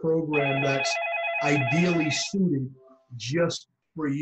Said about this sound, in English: And that's my phone ringing in the background.